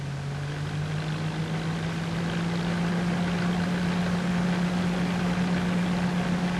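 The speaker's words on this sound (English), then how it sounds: "At this point, your power director is in neutral, so your tractor remains stationary, while D14 power winds up the harvester" A stationary D14 tractor drives a harvester through its power takeoff, giving a loud, steady engine drone whose tone rises gradually as the machinery winds up.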